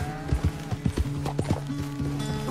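Horse walking, hooves clip-clopping in an uneven series of close, distinct thuds with a faint whinny-like tone underneath, no talk over it.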